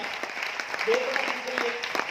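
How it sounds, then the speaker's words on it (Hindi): Applause rings out from an audience at a business talk in Aurangabad, scattered and moderately loud, with a voice speaking over the clapping. "ताली जोरदार वाली बजाइए"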